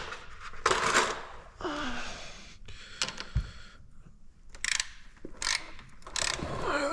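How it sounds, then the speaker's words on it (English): Torque wrench tightening bolts on an Allis Chalmers tractor, close bursts of ratcheting clicks in short runs separated by brief pauses, with a sharp metallic knock in between. "And then you can take the torque wrench and finish the rest of them off."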